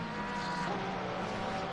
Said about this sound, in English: That Porsche makes such a nice roaring noise as it powers down the straight.